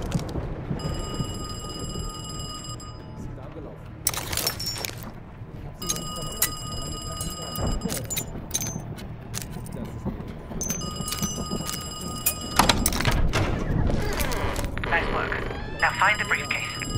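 A telephone rings repeatedly in Krause's apartment in the video game Call of Duty: Black Ops Cold War, with bright electronic ring bursts separated by pauses, set against a low background rumble and talk.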